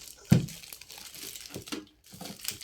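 Plastic packaging of a Medisana 40014 humidifier being opened, a sharp crinkle and tear up front followed by softer rustling and crumpling, close by and fairly quiet.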